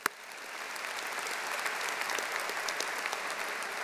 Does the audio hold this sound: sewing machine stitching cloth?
no